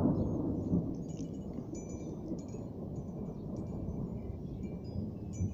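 Deep, continuous rumbling thunder from a thunderstorm over Gainsborough rolls on without a break, low and heavy, with a steady hiss of rain faintly underneath.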